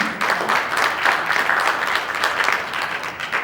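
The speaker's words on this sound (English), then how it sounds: "we'll clap for her anyway" Audience applause at a civil rights teach-in, greeting a commissioner: steady, dense clapping from a roomful of people, fairly close and sustained throughout with no speech over it.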